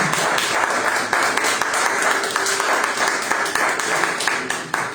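Congregation applauding the Lord at a church teaching service, a dense, steady wash of clapping filling the whole stretch with faint voices mixed in.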